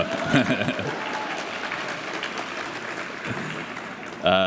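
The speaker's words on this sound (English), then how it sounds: "You can clap for her twice" Audience applause at a scholars awards dinner, a sustained wash of clapping across a large room, with a voice speaking over the end.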